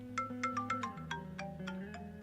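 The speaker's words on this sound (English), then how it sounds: "My phone sounds off in her hand." A mobile phone ringtone plays as a bright melodic sequence of quick chiming notes, steady and fairly quiet, with no voices over it.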